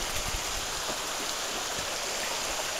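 A river flows steadily beside a wilderness trail in the Cranberry Wilderness, a constant broadband rush of water with no speech.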